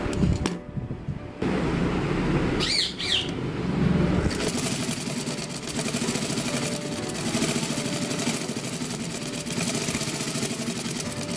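A sewing machine stitches a newborn baby's dress (nenju udupu), starting with a short burst, pausing, then whirring steadily and loudly without break for most of the clip, with no talking.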